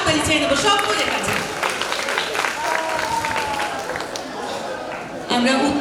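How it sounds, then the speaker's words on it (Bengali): An audience claps at a ceremony on a cultural stage in Taki, honouring a guest. The applause is a loud, sustained patter that continues for several seconds under tonal sounds and voices. "তার জন্য একটা জোরে হাততালি চেয়ে নেব সকলের কাছে।"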